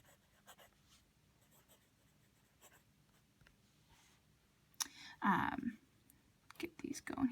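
Kaweco Sport fountain pen nib writing on paper, soft faint scratching strokes early on, then louder close scraping bursts toward the end.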